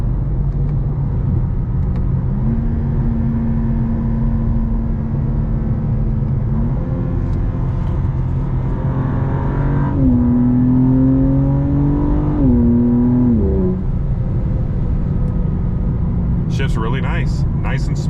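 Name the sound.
BMW M2 CS accelerating and shifting gears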